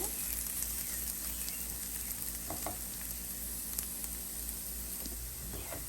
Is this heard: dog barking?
no